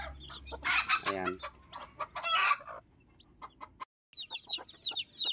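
Hen clucking with a brood of chicks chirping busily around it, the calls close and repeated; someone talks briefly at the start.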